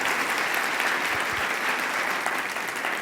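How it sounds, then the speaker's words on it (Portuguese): Church audience breaks into warm applause, a dense, even wash of many hands clapping at steady loudness for the full stretch, with no voices standing out. "Uma salva de palmas."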